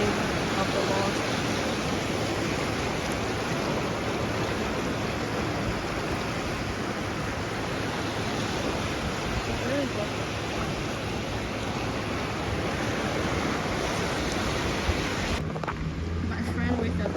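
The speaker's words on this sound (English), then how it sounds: "the wave of the water." Flowing water of a stream, outdoors in nature, heard as a steady, continuous broadband rush and gurgle at moderate level throughout, with no voices over it.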